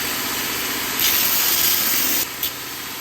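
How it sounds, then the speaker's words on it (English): A belt grinder runs steadily while a knife blade is cleaned up against the platen, giving a constant motor whine with a brief louder hiss of grinding contact partway through, then settling back to the running drone. "So we'll fire the grinder up and give it a clean up."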